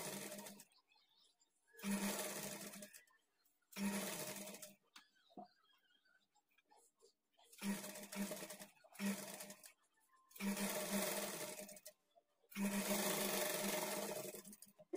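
A sewing machine stitches blouse sleeves onto the body in several separate bursts of steady whirring, each lasting one to two seconds, with short quiet pauses between runs.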